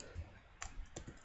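A few keystrokes on a computer keyboard, three or four quick clicks spaced unevenly over about a second, close and fairly quiet, with no talking.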